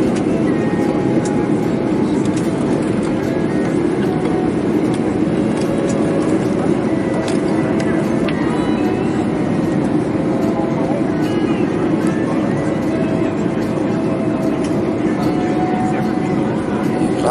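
Cabin of an airplane in flight near Maui as it turns and levels off, a constant loud engine drone and rush of air throughout with a voice talking over it.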